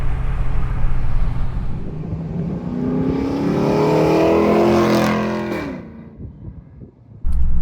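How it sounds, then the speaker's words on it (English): A custom 1959 Chevy El Camino's V8 is heard from inside the car as the throttle is stomped: a loud, swelling roar that climbs and holds, then drops away before a sharp burst at the end. "I'm gonna stomp the throttle for you guys right now. That's from inside the car."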